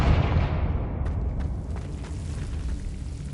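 A Confringo fire spell explodes in Hogwarts Legacy, a single soft boom that rolls off into a fading rumble, moderately quiet and heard alone.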